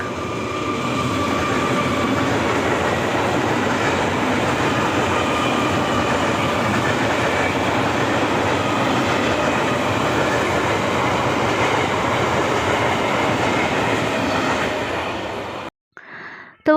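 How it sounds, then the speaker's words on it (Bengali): A train roars past close by in a long, loud, continuous rumble of rolling wheels lasting about fifteen seconds before the sound cuts off. "সেখানে দেখো ট্রেন লাইন দিয়ে ট্রেন যাচ্ছে"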